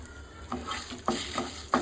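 Dried red chillies, halved, frying in a pan for a brinjal garlic chilli fry, with soft continuous sizzling and several brief louder stirring scrapes at intervals, no voices.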